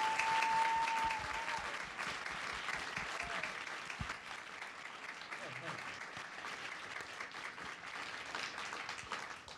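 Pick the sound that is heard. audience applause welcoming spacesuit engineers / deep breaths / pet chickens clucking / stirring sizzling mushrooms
audience applause welcoming spacesuit engineers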